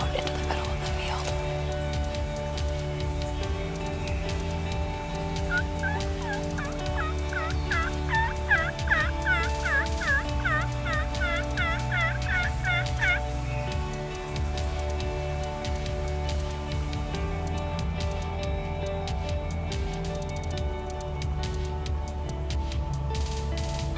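Wild turkeys gobbling from a field tree line, a burst of rapid warbling gobbles in the middle of the stretch, fairly distant under steady background noise.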